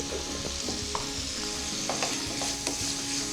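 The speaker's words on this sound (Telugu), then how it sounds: "ఫ్రై చేసి మూత పెట్టి ఇలా ఉడకనిద్దాం" Tomatoes and onions fry in a pan for a spicy chutney with a constant bubbling sizzle, and a spatula stirs and scrapes in quick, uneven strokes. Close and clear, with no talking.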